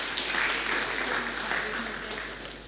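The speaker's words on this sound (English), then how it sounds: "With a huge round of applause, everyone, please let me welcome our first speaker for the day, Mr. Major General Mani" Sustained applause from an indoor TEDx audience at HITAM campus welcomes the first speaker of a technology-and-warfare talk, a dense, steady wash of many hands clapping close by for about three seconds.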